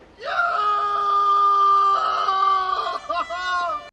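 A man lets out a long, loud, strained scream that holds for about three seconds before breaking into shorter wavering cries.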